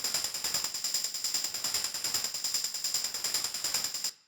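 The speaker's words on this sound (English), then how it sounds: "So here's what the shaker sounds in solo." Soloed hard techno shaker shaped by an erosion plugin and LFO, a crisp, gritty high-end ticking in a fast even groove with regular accents, loud and dry, stopping suddenly at the end.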